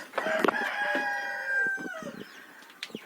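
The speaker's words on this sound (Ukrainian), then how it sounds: "Ми тут з Олічкою кормимо наших пташок" In a farmyard, a rooster crows once loud and close, a long drawn-out call, with clucks and chicken calls scattered around it and a few sharp squawks at the end.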